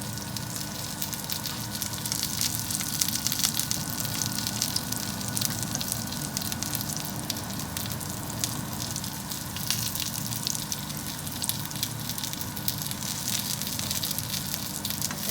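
Frozen gyoza dumplings sizzle and fry steadily in a hot pan, a continuous crackling hiss that stays even and close throughout with no talking.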